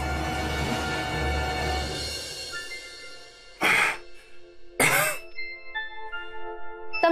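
Two sharp coughing bursts from an unwell person indoors, loud and close, after a stretch of background music or ambience, with a quieter lingering tone afterward.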